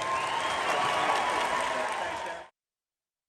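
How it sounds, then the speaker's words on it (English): Republican convention delegates fill a large hall with a dense, sustained crowd roar aimed at Mitt Romney, loud and even for over two seconds before cutting off abruptly into silence. "Mitt Romney, one of Trump's fiercest Republican critics, booed there by his Republican colleagues at the convention later that day."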